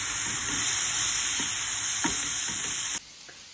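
Turkey with vegetables and konjac fries in a pan with peanut butter, soy sauce and Chinese seasoning, a loud, steady sizzle broken by scraping stirs, then cutting off suddenly near the end.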